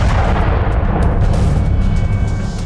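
A Russian missile strike on a supermarket in Donetsk, Ukraine, produces a loud, continuous, deep rumbling roar that stays dense and heavy throughout, with no voices.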